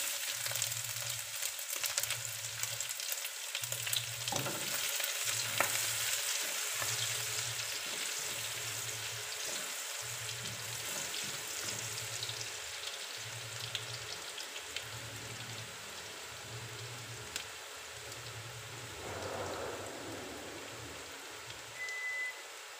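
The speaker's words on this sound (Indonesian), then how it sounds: "tumis bawang putih sampai wangi ya dan kecoklatan ya" Chopped garlic sizzles in hot oil in a pan for Taiwanese fried noodles, a steady close crackle with a faint rhythmic low hum pulsing underneath and occasional brief stirring clatters.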